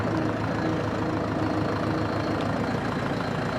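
A tractor engine running in high gear gives a steady, close, loud mechanical drone with a low rumbling idle-like throb, continuous and without voices.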